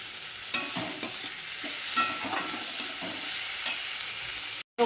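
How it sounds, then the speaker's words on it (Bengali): Prawns fry with onions and turmeric in a pan, giving a steady close sizzle broken by spatula scrapes and stirs at roughly one-second intervals, with no talking; the sound drops out briefly near the end. "এর মধ্যে এখন দিয়ে দেবো এই চিংড়ি মাছটা এর সাথে পুরো ভাজা ভাজা হয়ে যাবে"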